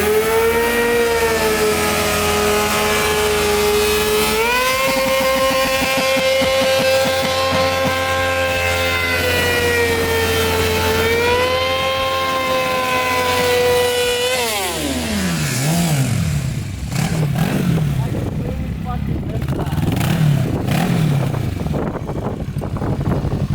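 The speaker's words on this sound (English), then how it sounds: "You wanna do a burnout on your bike?" A motorbike doing a burnout, its engine held at a loud steady high rev for about fifteen seconds, then dropping sharply into rougher, lower revving with tyre noise, close and continuous.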